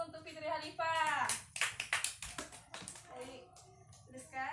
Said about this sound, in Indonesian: Tepuk tangan dulu untuk Fitri Halifah.